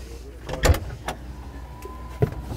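A Porsche's power window motor whines steadily as the glass lowers, preceded and followed by sharp clicks and thumps inside the car.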